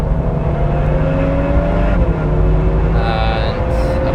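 Several cars, including a Renault Megane RS, a Porsche Boxster and a Renault Twingo, at the Nürburgring, their engines giving a steady, continuous drone that rises slightly in pitch before a brief higher whine near the end.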